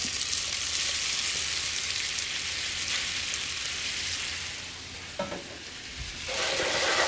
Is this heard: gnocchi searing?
yes